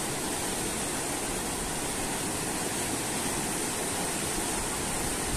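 A steady, full rush of flowing mountain stream water on the trek to Tsho Rolpa lake in Nepal, close and constant, with no pauses and no voices.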